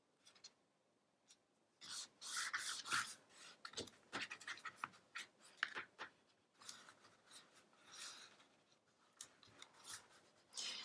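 Scissors snip through a paper border sheet for a travel journal craft, in a run of crisp close cuts and rustling paper trims, with short pauses between bursts.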